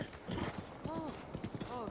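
A wild horse in the Breath of the Wild video game clip-clops along a road in a quick, even rhythm, hoof beats fairly close and soft, with brief snorts or whinnies mixed in.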